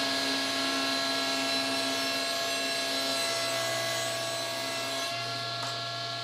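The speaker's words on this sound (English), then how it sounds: "then I'm sanding off the nasty burn marks that leaves behind" Burn marks are sanded off the rounded corners of a wooden box, giving a loud, steady, close droning rasp with a constant machine hum that runs unbroken through the whole stretch.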